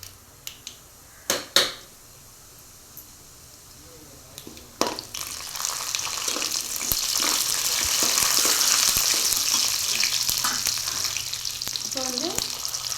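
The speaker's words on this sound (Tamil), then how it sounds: "பாசிப்பருப்பு அப்படியே போட்டுக்கலாம்." Moong dal hits a pan of popped mustard seeds with a few sharp clinks, then a close, steady sizzle of frying builds and holds alone.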